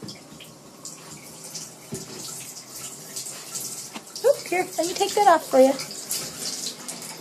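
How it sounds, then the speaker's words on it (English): Bath tap running water into a tub for a golden Labrador puppy, a soft steady faucet hiss in a small room, with a person talking near the end. "Should I turn the water on?"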